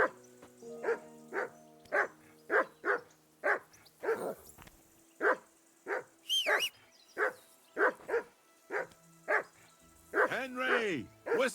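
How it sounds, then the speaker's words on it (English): A dog in Kingdom Come: Deliverance 2 barks repeatedly in a steady, regular rhythm, close and loud, with a few yips and whimpering whines mixed in near the end. "Whistle at that mutt of yours to stop barking!"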